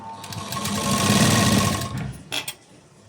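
A sewing machine stitching fabric piping, a fast steady mechanical whir that swells and holds for a couple of seconds, then stops, followed by a few soft clicks and handling noises, close and alone.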